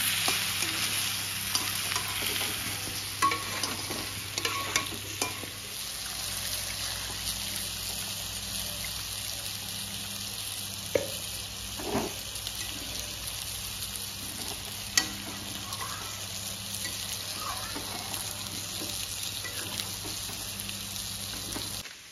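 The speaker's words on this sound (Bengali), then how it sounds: "এখানে কুমড়ো ভাজা হচ্ছে।" Pumpkin frying in a pan for a Bengali mutton curry gives a steady close sizzle, with occasional scrapes and clinks from stirring all the way through and no voices.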